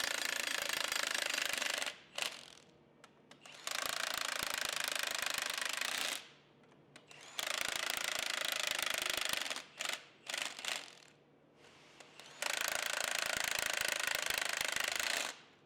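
Bolts being snugged down on a Cummins race engine block during final assembly, heard as bursts of loud, rapid mechanical rattling from a close power tool, broken by short pauses between fasteners.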